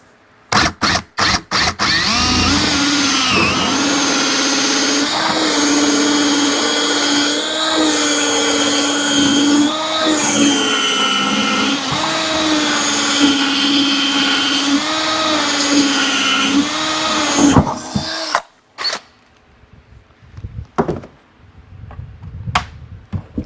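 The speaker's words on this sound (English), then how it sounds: "Drill your hole." A power drill whines loudly and steadily for several seconds, its pitch wavering as it bites through a metal feeder lid, then stops, leaving scattered clicks.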